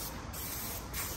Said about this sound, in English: Just start spraying that shit.